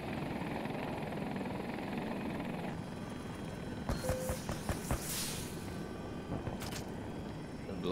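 An attack helicopter in Battlefield 2042 whirs with a steady rotor drone under game noise, and a burst of sharp impacts and blasts comes partway through.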